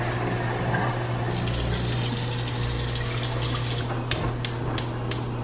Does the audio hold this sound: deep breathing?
no